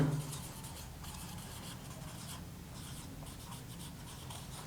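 Chalk or marker scratches steadily across a classroom board during a physics lesson, a continuous close rubbing and scraping sound with short stroke bursts, no talk over it.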